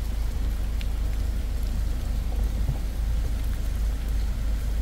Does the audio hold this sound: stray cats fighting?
no